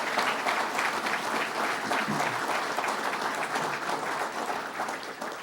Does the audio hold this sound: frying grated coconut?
no